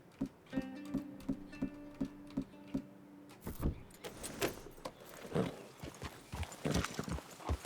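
Horse hooves clip-clopping at a steady walking rhythm in Red Dead Redemption 2, the footfalls evenly spaced with light jangling tack and faint ambient outdoor sound, no talk.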